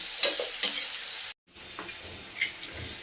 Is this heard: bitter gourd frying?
yes